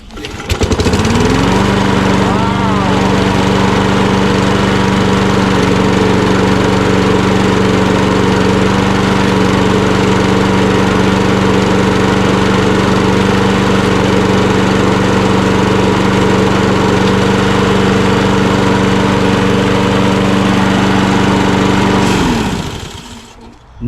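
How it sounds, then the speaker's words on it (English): A Kohler XT675 small engine on a lawn mower starts up and runs steadily at a loud, close idle for about twenty seconds before cutting off, with no talking over it. "It'll start? The Kohler XT675."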